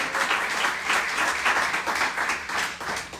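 Church congregation applauding during a service, a continuous dense clapping that swells and dips slightly, filling the room.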